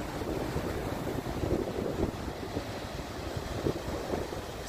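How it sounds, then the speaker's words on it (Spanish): Ocean surf washing onto a beach with steady wind noise, a continuous soft roar of waves with gentle swells rising and falling, no voices. "Sentir el movimiento de las olas."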